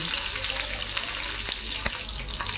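Cumin, mustard seeds and chilli crackle and sizzle in hot oil as a tempering for bottle gourd bhaji, a dense, steady frying hiss broken by a few sharp pops near the end.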